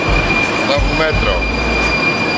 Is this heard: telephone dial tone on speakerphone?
no